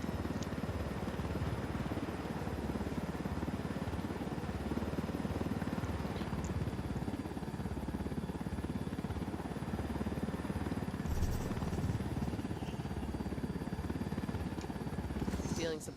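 A helicopter in a shooter video game flies with a constant loud rotor thrum and engine drone that stays close and even, while faint speech sits under it.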